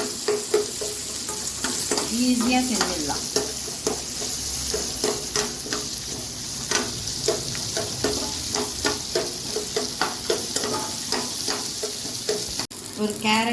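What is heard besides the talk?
ivy gourd (kovakkai) sautéing in oil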